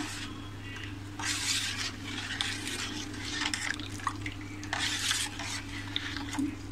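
A spoon mixes grated coconut with water, cardamom powder and turmeric in a vessel. Wet stirring swishes come in bursts, with light scrapes and clinks against the pot over a low background hum.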